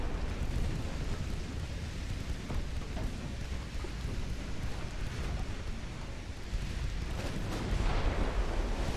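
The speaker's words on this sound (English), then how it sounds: "nice high explosive shots penetrating from close range" Deep, rumbling booms of high explosive shells striking warships in the naval game Ultimate Admiral: Dreadnoughts, a continuous heavy roar of impacts and distant artillery with no talk.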